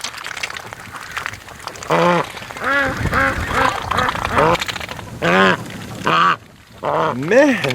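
A female breeder duck quacks loudly and repeatedly nearby in rapid bursts, several harsh calls in a row with short pauses between them.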